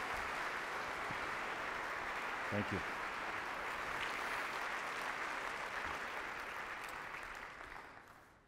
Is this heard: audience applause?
yes